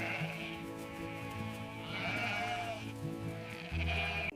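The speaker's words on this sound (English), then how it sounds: "He opens the gate and lets the sheep out to graze." Sheep bleat on a farm as the enclosure gate is opened and they are let out to graze, with drawn-out wavering calls over a steady background hum.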